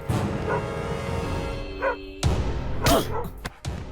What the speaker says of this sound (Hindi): इन कुत्तों को किस सूटकेस को देखकर भौंकना चाहिए, किस पर नहीं, पहले ये सिखाओ।